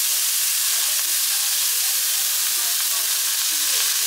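Steak searing in a hot pan with onion, a steady broadband sizzle holding at an even level throughout with no talk over it.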